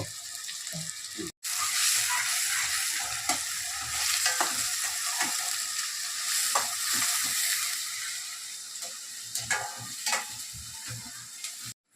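Onions frying in oil in a pan for a mutton curry, a steady loud sizzle with intermittent stirring scrapes and clinks throughout, briefly cut off near the start.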